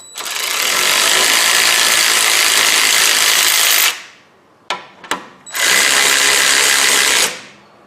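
Power ratchet loosening the front caliper bracket bolts on a 2007 Chevy Malibu during a brake pad and rotor job, two long loud whirring bursts separated by a few short sharp clicks, close up with no talking.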